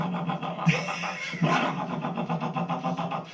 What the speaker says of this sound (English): Raunchy engine. Listen.